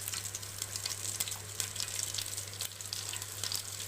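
Oil sizzles and fries in a hot pan while cooking chicken with gongura sorrel leaves, a steady crackling hiss with scattered sharp pops over a low electrical hum.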